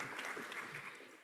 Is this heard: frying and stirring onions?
no